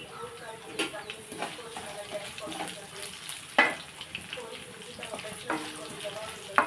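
Dried red chillies and green chillies sizzle in hot oil for ajwain rice, a crackling fry with scattered pops and stirring scrapes close by, while someone talks over it.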